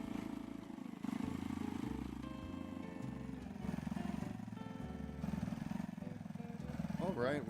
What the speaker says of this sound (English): This poor moped is giving it all it's got.